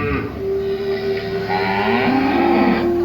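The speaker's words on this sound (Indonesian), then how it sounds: "Sapi itu mengerang kesakitan dan tiba-tiba sapi itu melahirkan" A pregnant cow groans in pain while giving birth, letting out a long, drawn-out, low moo that rises and bends in pitch. The call is loud and close, with no people talking.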